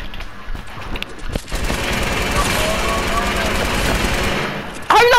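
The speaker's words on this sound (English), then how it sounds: "Oh my god, that was LMG, yo." Light machine gun fire in a video game, a rapid sustained rattle of automatic shots, loud and continuous for several seconds, preceded by a few scattered shots and followed by a voice at the end.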